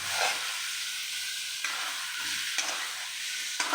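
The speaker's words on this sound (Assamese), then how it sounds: "এতিয়া এই মাংসখিনি মই ফ্ৰাই কৰি আছোঁ।" Chicken meat fries in a pan for an Assamese dish with coriander leaves, giving a steady, close sizzling hiss that carries on without a break and swells slightly a few times.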